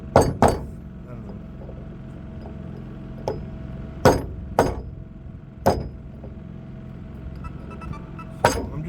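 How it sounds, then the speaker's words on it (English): Sharp metallic chips and clinks ring out as plasma-cutter slag is knocked off freshly welded steel auger teeth, coming as about eight separate strikes, some in quick pairs, over a low background hum. "So I'm just getting the slag off of these teeth that from the plasma cutter."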